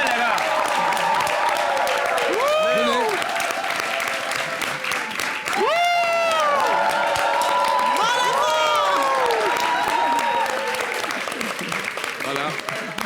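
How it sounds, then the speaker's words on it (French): A live comedy show audience applauding and cheering loudly for four finalists on stage, dense continuous clapping with rising whoops and shouts throughout. "je vous demande d'applaudir très, très, très fort"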